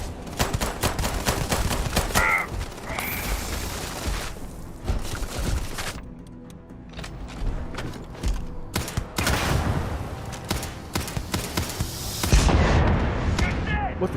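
A near, loud explosion in the game Starfield, breaking through a busy firefight with gunshots and clanking mechanical noise, followed by a lull and another heavy burst.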